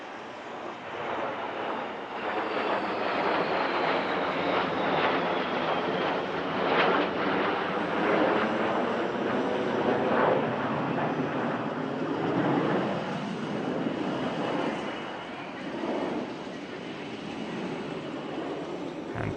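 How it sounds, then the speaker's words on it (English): Three Dassault Rafale fighter jets on a formation pass at the Air Legend 2023 airshow, a sustained roaring jet rumble with a slowly shifting whine, steady and distant-to-moderate, buffeted by wind. "another pass from the 3 Rafales to demonstrate buddy-buddy refuelling"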